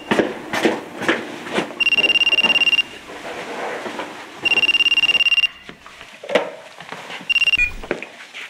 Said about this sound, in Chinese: 电话来啊。